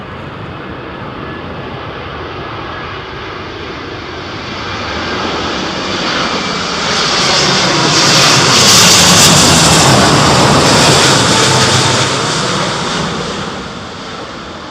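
A passenger aircraft lands at Heathrow Airport in strong storm winds, its engine roar loud and steady, swelling as it passes close by amid a blustery wind rush, with no voices.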